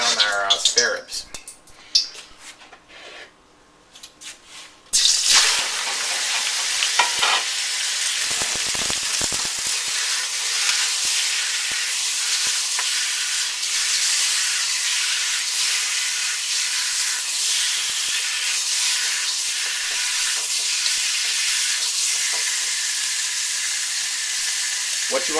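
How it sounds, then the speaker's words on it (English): Spare ribs hit hot oil in a wok, and after a few quieter seconds of clatter a loud, steady sizzle and hiss takes over and holds, close and continuous. "we're going to put a little bit of oil in the wok, and we're going to brown our spare ribs."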